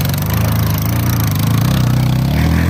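A small motorbike engine runs close by with a loud, steady buzzing drone that holds throughout with no break and no talk.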